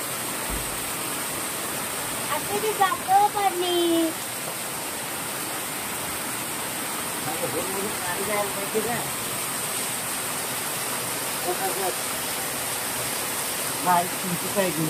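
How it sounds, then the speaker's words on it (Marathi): Heavy monsoon rain in Konkan pours as a dense, steady roar throughout, with brief voices talking over it now and then. "कोकणात पावसाचा धुमाकूळ."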